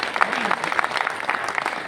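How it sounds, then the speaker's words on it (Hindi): A seated audience at a motivational business meeting breaks into brief applause, a short burst of clapping with voices mixed in. "ताली बजा सकते हो।"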